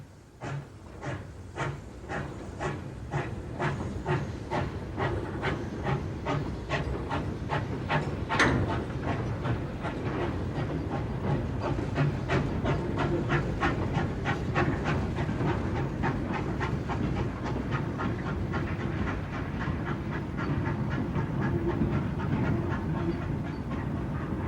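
A GWR pannier tank steam locomotive hauls a freight train on the Dart Valley Railway, giving steady, loud rhythmic chuffing and wheel clatter that stays close throughout with no voices.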